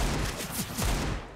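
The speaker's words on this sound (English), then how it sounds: "two bullets connecting from Borup" Rapid gunfire in a CS:GO match on Mirage, a quick cluster of close, punchy shots in the first second, fading at the end.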